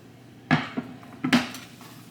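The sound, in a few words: onions being put into a cooking pot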